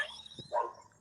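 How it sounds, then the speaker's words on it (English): A dog barks in the background of an indoor live-stream review of a reality show, giving one or two brief, muffled yelps at moderate distance. "I'm so sorry about the barking in the background."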